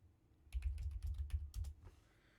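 Typing on a computer keyboard to enter information into a form, a short quick run of about a dozen light key clicks, close and fairly quiet, with no voice.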